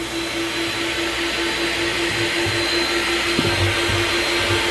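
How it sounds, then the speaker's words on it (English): A shop vacuum sucks machine coolant out of a machine with a loud, steady motor drone and rushing airflow, plus a few faint knocks and gurgles near the end. "Gotta get the vacuum started."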